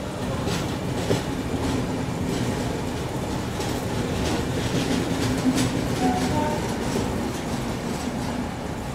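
Janhit Express train arriving at Barauni junction, a steady rumbling rattle of wheels and carriages with faint clickety-clack, close and continuous without talk.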